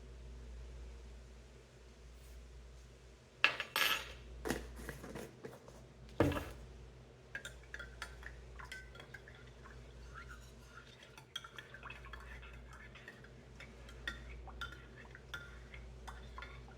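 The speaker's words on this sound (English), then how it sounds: "Next, I'm going to make a cup of coffee using instant coffee." A spoon stirs instant coffee in a cup, with a few sharp clinks against the rim and softer scraping, faint and close over a low steady background hum.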